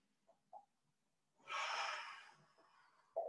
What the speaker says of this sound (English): and two deep breaths